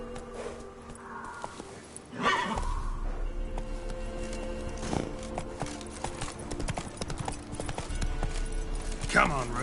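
Hooves of Roach, Geralt's horse in The Witcher 3, clip-clopping in a steady trotting rhythm, close and clear, over game music and ambience.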